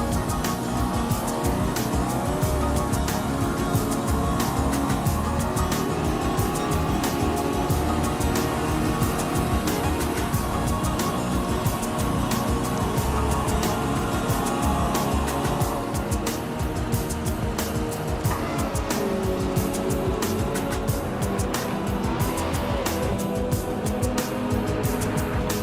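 Several race cars run bumper to bumper in a Challenge Series race, a dense, steady engine roar with revving and occasional tire squeal filling the whole stretch at constant loudness.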